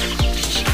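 Young chicks peep in a quick pair of short calls, close and clear over a steady low background.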